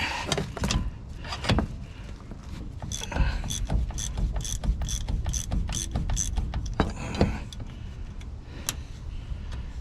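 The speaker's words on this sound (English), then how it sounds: "So we'll loosen them up with the 1/4 inch and come in with the electric ratchet." Electric ratchet loosening the hanger bearing bolts on a 7.3 diesel driveline: bursts of rapid clicking and whirring, close by, mixed with metallic clunks and rattles over a steady background hum, with no voices.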